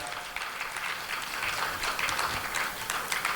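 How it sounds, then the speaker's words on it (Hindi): An audience at a Hindi-speaking public gathering claps together in a dense, even patter of applause that holds steady throughout without fading. "ये आपकी तालियों के स्वर वहां तक पहुंच रहे हैं"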